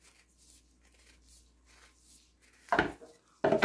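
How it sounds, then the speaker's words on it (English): A knife cuts through a ripe avocado for a chickpea and spinach salad, two short firm cutting sounds near the end after quiet moments. "now I'm going to cut the avocado"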